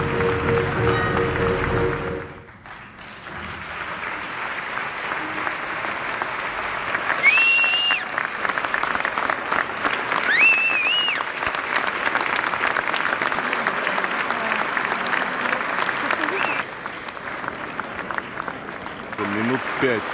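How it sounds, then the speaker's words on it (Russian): Sustained ovation from a packed audience of more than 2,000 in a huge hall at the Cannes festival premiere, dense steady clapping that runs for the whole stretch, with only a brief dip early on and a few whistles rising above it. "Минут пять зал просто не унимается. Минут пять оваций."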